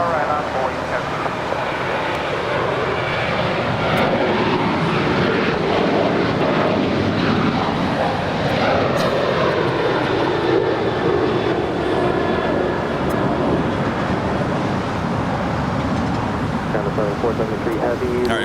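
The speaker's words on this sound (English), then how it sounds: "we just had the China Southern Cargo 777 land on 25 left" A China Southern Cargo Boeing 777 lands at LAX on runway 25 left, giving a loud, sustained roar of jet engines and rushing air that lasts throughout, with voices talking over it.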